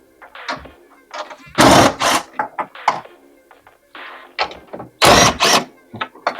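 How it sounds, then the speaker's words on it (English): A 13mm impact wrench works fasteners off a Mustang tail light, giving two loud close bursts of rattling hammering among scattered shorter mechanical clicks and clunks. "we got our 13mm impact. I'm gonna remove these."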